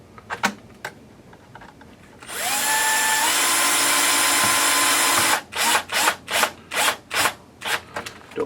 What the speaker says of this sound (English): this is really where you enjoy having an electric drill screwdriver